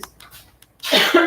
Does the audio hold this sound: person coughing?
yes